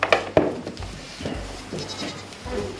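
A goat bleats close by several times, with two sharp cries early on and softer bleats following at uneven intervals, with no talking over them.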